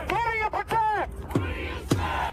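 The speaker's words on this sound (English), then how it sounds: "chants rose from the crowd directed at the police" Protest crowd chanting at police, loud rhythmic voices rising in sharp bursts with strong shouted tones, close and continuous across the moment.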